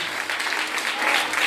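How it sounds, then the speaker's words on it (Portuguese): A church congregation claps for Jesus Christ during a service, a brief burst of steady, dense applause from many hands. "Você pode aplaudir a Jesus Cristo."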